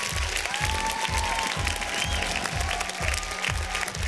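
A studio audience claps steadily and loudly after a singer's performance on a televised talent show, the applause continuous and full over a regular low rhythmic pulse.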